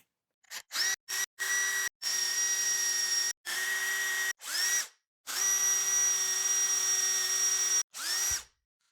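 A power drill with a twist bit bores through metal on a zero-turn riding mower in a run of steady high whining bursts. The bursts start and stop repeatedly and sound close.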